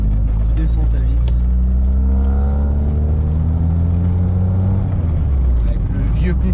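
Engine of a Volkswagen Golf Cabriolet Karmann while driving, a loud steady low drone with rising and falling pitch as it accelerates, under continuous talking.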